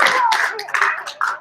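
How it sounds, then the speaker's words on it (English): A short burst of applause from an audience gathered for a live event, clapping steady and fairly close, fading slightly before a final swell. "Give yourself a big round of applause for being here."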